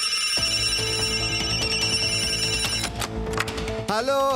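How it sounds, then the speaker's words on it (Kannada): A telephone bell rings in repeated electronic trills, loud and close, layered over a musical score; a voice speaks briefly near the end. "ಅಯ್ಯೋ, ಫೋನ್ ಎತ್ತಿ ಸರ್."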